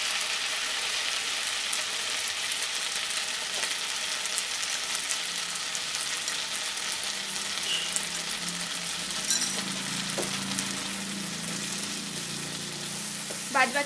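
Ginger paste and spice paste fry in melted butter for paneer, giving a steady close sizzle with stirring scrapes and a few clinks. It runs continuously and fairly quietly, with no talking.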